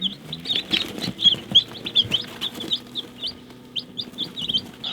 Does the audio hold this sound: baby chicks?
yes